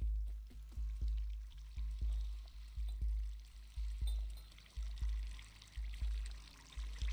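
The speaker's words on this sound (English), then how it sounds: "There's water in here, but I can't drink it." Water pours in a rhythmic, repeating surge in the Stray video game, each low gush swelling then trailing off roughly twice a second, close and fairly quiet.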